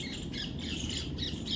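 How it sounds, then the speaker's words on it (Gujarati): Parrots and squirrels call from an ashoka tree in a village, giving sharp, repeated squawks and chirps that are moderately faint and slightly distant, with no talk. "એમાં ખિસકોલા ને પોપટ બોલવા માંડે"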